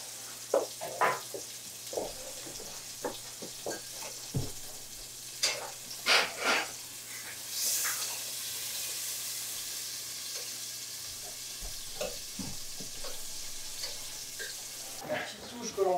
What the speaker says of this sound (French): je vais venir poser mes foie gras et on va faire, comme on dit, aller-retour